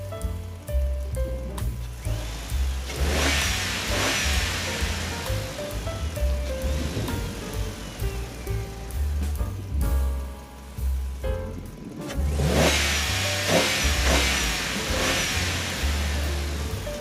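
A dump truck hauling red material to a project site, its diesel engine rumbling low and surging in two heavy revving bursts amid hissing air and road noise, close and loud with no talk.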